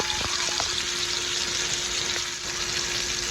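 Lamb chops sizzling in extra virgin olive oil on a griddle, a dense, steady hiss and crackle, close and constant throughout, with a few faint clicks and no talking.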